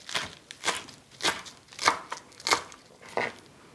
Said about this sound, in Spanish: Lo primero que voy a hacer es picar la espinaca.